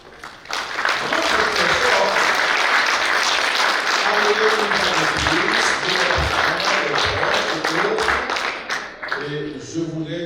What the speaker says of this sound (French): Applaudissez-vous,